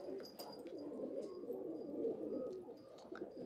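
Domestic pigeons coo softly on a rooftop loft, a low burbling murmur running continuously with a few faint chirps above it, quiet and close with no voices.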